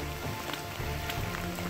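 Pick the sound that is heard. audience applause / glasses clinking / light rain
light rain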